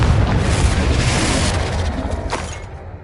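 A loud, sustained fiery blast from the Confringo spell in Hogwarts Legacy, one heavy boom that rumbles on and slowly fades over about three seconds.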